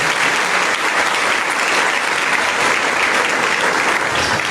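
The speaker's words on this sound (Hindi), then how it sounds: "इनके लिए तालियां दोनों बच्चों को" A church congregation at a holy mass applauds for two children who played a song, many hands clapping in a thick, even, loud roar that holds steady from start to finish.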